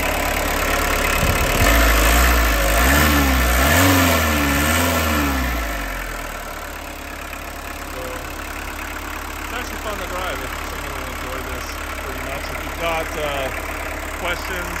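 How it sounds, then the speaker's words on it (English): A 1981 Volkswagen Rabbit Caddy with a diesel engine and five-speed runs close by, first with a loud rough rumble that rises and falls, then settling into a steadier, quieter idle clatter. "So go ahead and take a peek underneath the hood while it's running."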